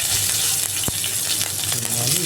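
Fish head pieces sizzle steadily in hot oil for a village-style fish curry, a continuous close frying hiss with a single sharp pop partway through and faint stirring below.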